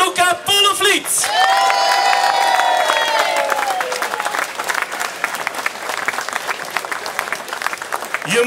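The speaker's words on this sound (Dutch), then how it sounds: "Graag uw applaus, Gianluca Poelenvliet." A crowd at the Heusdenkoers men's cycling race, 13 August 2024, applauds and cheers a rider, with whoops and a high whistle over dense, loud clapping, and a voice briefly heard at the start.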